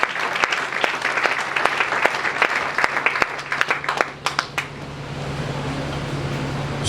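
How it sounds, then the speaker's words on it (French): A church congregation applauds, a dense patter of clapping with sharp individual claps standing out. It thins and fades after about four seconds, leaving a faint fan-like hum. "Acclamons très fort."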